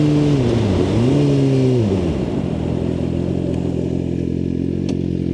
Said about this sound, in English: So when I come to this stop, I'm going to grab a bunch of front brake.